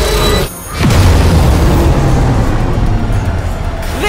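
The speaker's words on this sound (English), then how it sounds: "Annihilator fully charged. Firing weapon in 3," An annihilator weapon in a video game fires with a loud, heavy boom after a brief quiet gap, then a long rumbling blast that fades slowly.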